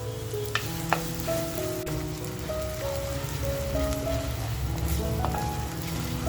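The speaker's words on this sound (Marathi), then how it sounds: "बघा कांदा आहे ना आपल्याला सोनेरी कलर येईपर्यंत मस्त असा खमंग परतवून घ्यायचे." Chopped onion frying slowly over a low flame in a clay pot, a steady soft sizzle running throughout with occasional stirring scrapes and clinks, close and continuous, no talking.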